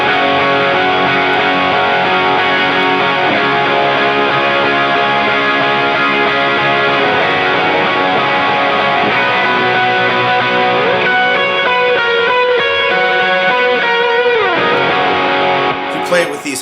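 An electric guitar plays big ambient rhythm chords through a dotted-eighth delay for a worship song. The chords ring loud and sustained, the repeats smear into a continuous wash, and the sound cuts off abruptly at the end.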